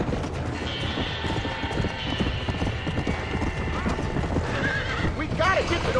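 Horses whinny and gallop during a burning-barn scene in the Red Dead Redemption video game, with rapid hoof clip-clops throughout, shrill neighs near the end and voices talking over the commotion.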